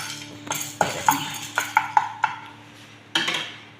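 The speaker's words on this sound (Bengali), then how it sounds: "আমি নাড়িয়া সারিয়া দিয়া গরমর মকই দানা আস্তে আস্তে ফুটব" A utensil stirs corn kernels in a hot pan, giving a series of light scraping clinks and taps at an uneven pace, close and moderately loud, with no voices.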